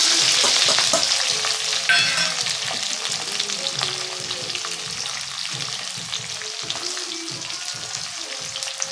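A ground paste of onion and green chili frying in a pan for upma gives a dense, continuous close sizzle, with a spatula scraping and stirring through it in uneven strokes.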